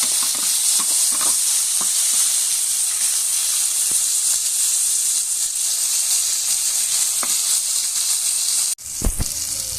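Tomatoes and onions sauté in a pan for fish sarciado, giving a constant bright hissing sizzle with a few soft clicks. Near the end comes a sudden break, then a sharper clatter.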